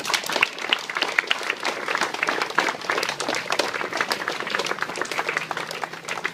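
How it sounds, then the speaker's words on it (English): A large audience applauds steadily, dense clapping filling the whole stretch at an even, fairly loud level with no voices on top. "Let's give a nice round of applause."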